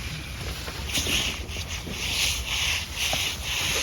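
A trowel glides quickly over a surface in rhythmic rubbing, scraping passes, close and fairly loud, with no voices.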